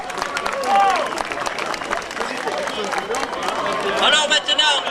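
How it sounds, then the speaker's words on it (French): Audience at a Marcilly-le-Châtel gathering of French towns named Marcilly, breaking into lively applause and cheering amid crowd chatter, dense and continuous, swelling toward the end. "applaudissez."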